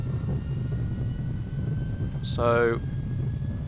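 In X-Plane 10, an Airbus A320 on the landing roll at Gibraltar holds a steady engine roar under max reverse thrust, moderately loud, with a short electronic cockpit chime and a brief spoken word.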